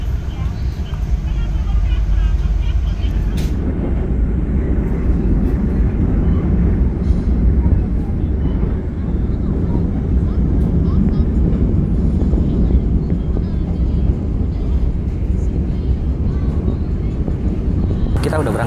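Ijen Express train pulling away from Bangil station, a steady loud rumble of wheels and engine with rail noise throughout, heard from on board.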